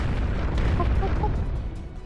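A rapid series of deep, rumbling explosions from a visual novel game, dense and continuous at close range, with the blasts running together into a steady roar and no voices over them.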